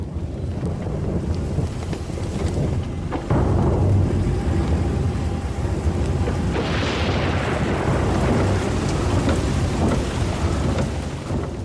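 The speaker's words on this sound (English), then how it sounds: "And then the most heavy monsoon rain." Heavy monsoon rain pours down steadily during a drive, with a loud rumble of thunder rolling in partway through and wind buffeting the microphone; no one speaks.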